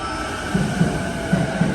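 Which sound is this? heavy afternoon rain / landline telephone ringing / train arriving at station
train arriving at station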